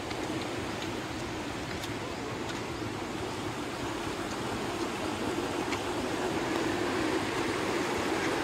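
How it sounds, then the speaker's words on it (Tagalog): A strong river current flowing after rain, a constant loud broadband rush of water that fills the whole stretch without pause, no talk heard over it. "Guys, ang lakas ng agos ng ilog."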